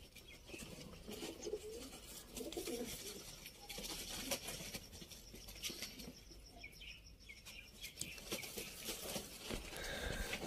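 Qasuri golden dab pigeons with red eyes cooing on a rooftop in Sialkot, soft low coos and faint wing flutters at a distance, quiet and intermittent under a light background hiss.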